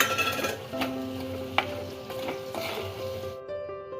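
Radish sautéing with garlic in a pan sizzles softly while a utensil strikes and scrapes the pan in a few ringing metallic clangs; the sound cuts off abruptly near the end.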